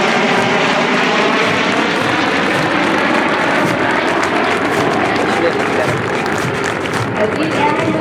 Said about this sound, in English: Rendering the flying salute to our graduated airmen are two F-16s from the 149th Fighter Wing.